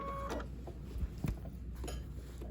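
A sewing machine stitches down glue-basted quilt binding, giving a steady close mechanical whir with a few faint ticks and no talking.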